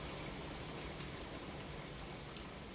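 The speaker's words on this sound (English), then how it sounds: "It's pouring here. Can you guys hear that?" Heavy pouring rain in Southern California, a steady faint hiss of falling water with a few sharper drip or splash clicks, heard from indoors or nearby and alone without any talk.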